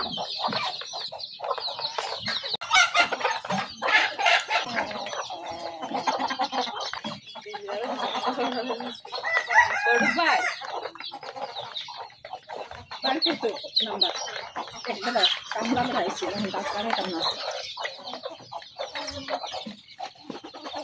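Native chickens and roosters cluck in busy, overlapping bursts with occasional crowing, close and fairly loud, while people talk intermittently among them.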